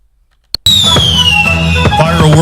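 After a moment of silence, a sharp firework bang gives way to a loud, descending whistle with crackling bursts, part of a Fourth of July fireworks display in Florence, South Carolina.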